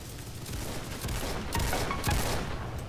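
Rapid bursts of gunfire from a Roblox Ragdoll Universe shooter match, dense overlapping shots forming a steady loud fusillade with a few sharper cracks standing out, no voices.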